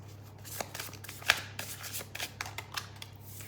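Tarot cards being handled and shuffled, a quiet series of crisp, irregular card riffles and slaps with a faint steady hum underneath.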